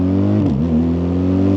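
A 2025 BMW R 12 G/S motorcycle accelerates at half throttle toward 100 km/h, its steady engine drone broken by a brief dip where the optional quick shifter snaps through an upshift before the revs climb again.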